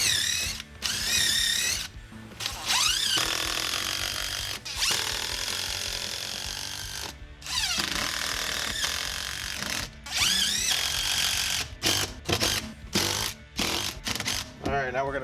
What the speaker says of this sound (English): Now that you got it held down, you go ahead and drill the rest of them.